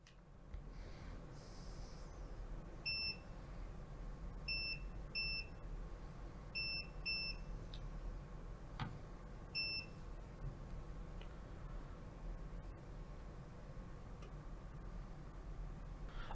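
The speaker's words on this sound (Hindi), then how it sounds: "ओके, टाइमर कंप्लीट हो गया।" A timer beeps as it completes, a series of short, high electronic beeps in uneven clusters over a steady low background hum, with a few faint ticks scattered between them.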